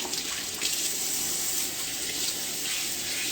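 Tap water runs steadily into a sink while a plate is rinsed under it, a continuous close splashing hiss with a few brief surges.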